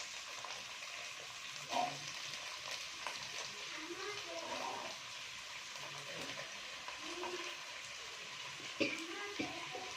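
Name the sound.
beans, carrot, potato and peas frying in pan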